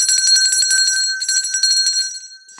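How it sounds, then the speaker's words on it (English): A small bell rings with quick repeated strikes, bright and loud, for about two seconds. The rapid ringing then thins out and stops, leaving a sustained metallic tone. "But I gotta ring the bell."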